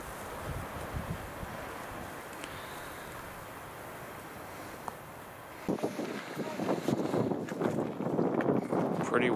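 Wind buffeting on an open mountain hiking trail, a rough continuous rumble that grows louder and gustier partway through, with a voice talking briefly underneath.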